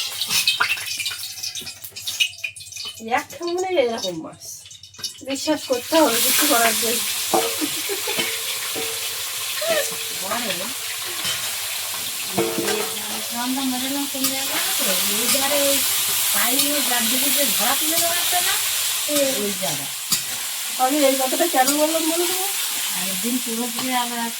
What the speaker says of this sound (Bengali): কড়াইয়ে তেল দিয়ে দিয়েছে মাছ ভাজবো